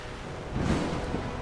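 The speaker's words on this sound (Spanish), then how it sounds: "¡Mira cómo llueve!" Rainfall in the Ori and the Blind Forest game, a brief soft wash of rain with a low rumbling swell in the middle, faint and heard alone.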